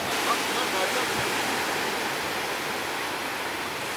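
Continuous, loud hiss of breaking sea surf close by at Umm Al Quwain, a dense wash of water noise with no pauses.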